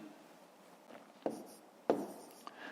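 Pen or pencil writing numbers by hand on paper during a fifth-grade subtraction exercise, a few quiet scratching strokes with two sharper taps, close and faint, with no talking.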